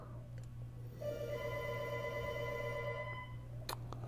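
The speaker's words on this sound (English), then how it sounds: "Phone's ringing in the background." A telephone rings in the background of a quiet room: one electronic ring tone lasting about two seconds, fairly faint, over a steady low hum, with no talking.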